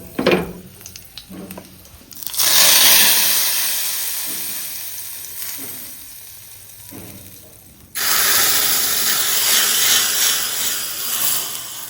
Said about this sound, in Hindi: तेल गर्म हो गया, इसमें डाल देते हैं जीरा, कलौंजी, हींग और इसी से लगा देते हैं तड़का